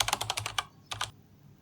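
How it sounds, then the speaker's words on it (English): Close, quick keystrokes on a computer keyboard come in a rapid burst of about eight clicks, then a short pause and two more taps before it goes quiet. "Clear the screen and type the command."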